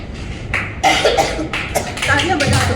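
A few coughs break out at a yoga ladies group's anniversary cultural program, short bursts scattered amid nearby talking and faint hall noise.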